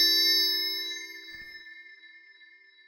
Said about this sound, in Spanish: aquí dice que son unas campanas polifónicas análogas